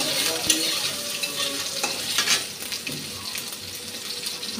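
Panch phoron spices and dried and fresh chillies frying in hot oil, a loud close sizzle with crackling pops and scraping stirs of a spoon in the pan.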